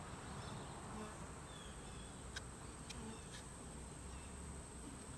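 Honey bees hum in a steady, dense drone during an open hive inspection, a faint continuous buzz filling the background with no pauses and no talk.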